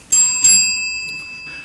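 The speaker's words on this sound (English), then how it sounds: "our timekeeper, Bill Schroeder, will ring a bell once" A single bell rung as a timing test at a candidates' debate gives two quick bright strikes that ring out and fade slowly, clear and close in a quiet room.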